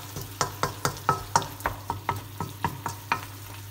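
A Quiche Lorraine filling cooks in a pan while a utensil scrapes it in a steady rhythm of about a dozen distinct strokes over a soft, continuous low hum, close and moderately loud, without speech.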